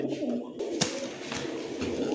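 Kaldam pigeons sitting on eggs coo in low, repeated throaty calls, close by, over a steady background hum with a few sharper clicks.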